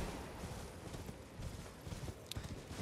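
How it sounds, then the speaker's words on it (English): Horse hooves clip-clopping in the Elden Ring video game, a steady galloping rhythm over low rumbling ambience. "we'll hop on the horse for now"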